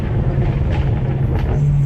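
A single-turbo BMW 335i running on ethanol downshifts, a loud steady low engine drone close by that holds without a break through the short span.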